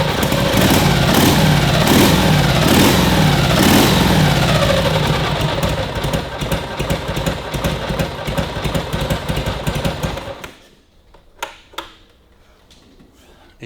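A Harley-Davidson WLA motorcycle engine runs loud and close with a rough, pulsing idle and a few revs. It then cuts off abruptly, leaving a few faint clicks and knocks.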